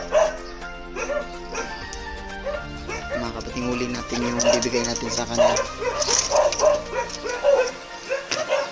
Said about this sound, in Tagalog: Yung tinahol ng aso.